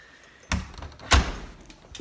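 House door being unlocked and opened: two sharp knocking clunks about half a second apart, the second heavier, close by over quiet room tone.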